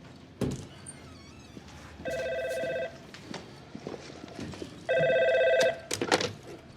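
A telephone rings twice in electronic, trilling bursts, each lasting about a second and separated by a pause, over faint background sounds and small clatters.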